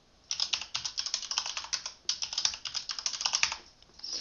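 Rapid keystrokes on a computer keyboard entering a password during a Proxmox VE 6.0 installation, close and crisp in quick uneven bursts with a brief pause midway, no talking.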